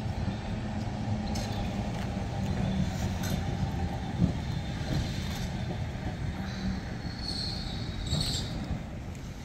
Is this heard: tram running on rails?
yes